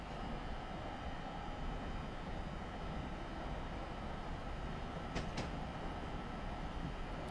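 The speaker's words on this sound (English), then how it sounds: "Oh, train coming the other way." A train rumbles steadily past in Train Simulator 2017 on the North Jersey Coast Line, heard from an ALP-45DP locomotive cab as another train comes the other way, a constant loud roar with a couple of brief high squeals near the end.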